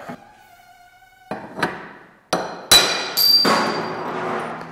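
A SIP special tool is struck with a hammer while fitting Vespa steering bearing races into the frame, producing several sharp metallic knocks at irregular intervals, the later ones louder and ringing, with a quiet pause before the first hit.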